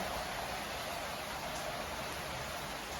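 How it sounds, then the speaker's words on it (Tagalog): Steady, dense hiss of heavy storm rain pouring without pause, a constant wash of sound with no voices. "Sobrang lakas ng ulan ngayon."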